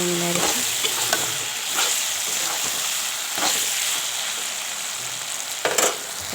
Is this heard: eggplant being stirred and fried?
yes